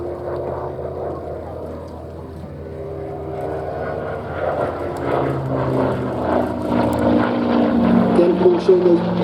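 An aircraft engine drones at an airshow, a steady propeller roar that swells louder toward the end, with someone talking over it.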